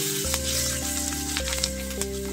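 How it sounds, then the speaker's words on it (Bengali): Dried red chilli, chopped green chillies and curry leaves fry in hot oil for masala dosa stuffing, a steady bright sizzle running throughout beneath loud sustained background music with shifting notes. "একটা শুকনো লঙ্কা দিলাম, কাঁচা লঙ্কা কুচনো দিয়ে দিলাম। এবার সব খুব ভালো করে একসঙ্গে ভেজে নেব।"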